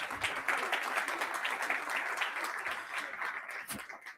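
Moderate crowd applause for startup founders at a demo day event, a continuous wash of clapping with a few louder individual claps standing out.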